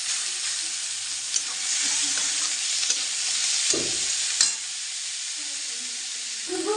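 Chopped tomato and coriander sautéing in a pan for an egg chutney, giving a constant hissing sizzle with a few scraping stirs and a sharper clack near the middle, close up and without voices.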